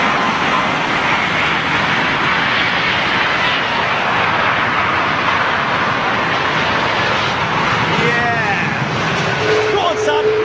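A Sri Lankan Airbus A330 lands at Heathrow in stormy weather, its engines a loud, continuous roar mixed with wind rush. A brief voice comes through near the end.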